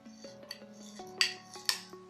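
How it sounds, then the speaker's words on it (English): Spoon mixing honey, sugar and coffee into a face scrub in a small bowl, light scraping with a few sharper clinks against the dish, close and fairly quiet. "I'm just mixing so that I can make our scrub."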